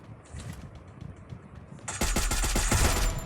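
Video game gunfire: a few scattered shots, then a loud rapid automatic burst of closely spaced shots, no talk.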